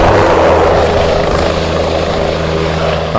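Helicopter ride over the Mahakumbh gathering at Prayagraj, a loud, steady rotor and engine roar heard from inside the cabin, continuous and dense throughout with no talking.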